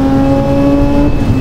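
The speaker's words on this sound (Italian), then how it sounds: "Ecco la differenza tra gli altri motori e il rotativo." A Mazda RX-8 rotary engine holds a steady, smooth high rev, loud and close, with no breaks or shifts.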